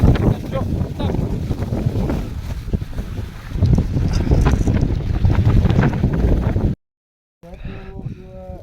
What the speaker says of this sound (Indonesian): Tuh, angin keras.